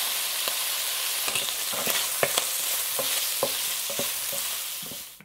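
Shrimp with a little oil sizzle in a hot wok for a spicy stir-fry, a steady bright frying hiss broken by repeated light scraping clicks of stirring, close up and without talk.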